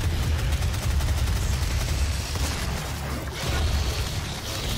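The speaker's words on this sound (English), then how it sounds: "I'll need my chain gun." Sustained rapid chain gun fire in the game DOOM, a dense continuous rattle of shots with heavy low-end thump that holds steady and loud throughout, with no speech over it.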